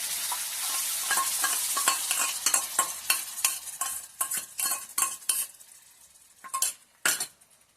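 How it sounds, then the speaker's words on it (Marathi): Coconut and chillies roast in hot oil for a stuffed bangda mackerel fry, with a soft sizzle under rapid metal spatula scrapes and clinks against the pan that come in quick bursts, then thin out into separate strokes. "तर असं आपण तेल घालून घ्यायचा आणि त्याच्यानंतर आपला जो खोबरा, मिरची वगैरे सगळं ते भाजून घ्यायचं."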